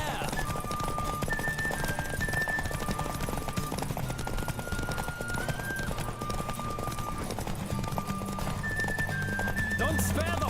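A horse gallops flat out in a race in The Witcher 3, its rapid hoofbeats drumming steadily throughout beneath sustained game music tones and voices.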